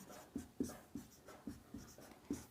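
Pen writing on paper during a Class 10 maths lesson, heard as about six soft scratchy strokes with short pauses between them, close and quiet with no talking.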